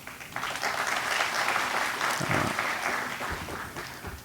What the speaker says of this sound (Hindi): कैसे तालियां बजती तो अच्छा लगता है